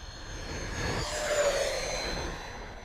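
A Freewing F-14 Tomcat RC jet with twin electric ducted fans, powered by Admiral 5000 LiPo packs, flies under power with a steady rushing whine. The sound swells briefly as the jet passes, then holds strong.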